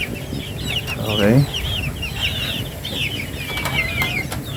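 Native chickens cluck and chirp close by in a farmyard, with a brief burst of wing flapping and bird calls overlapping, while a person speaks a single word.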